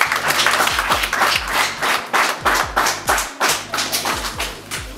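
Audience applause at a karate belt-grading ceremony in Burera, many hands clapping steadily and fairly close, with a thick burst of claps continuing through the whole stretch and no talk over it.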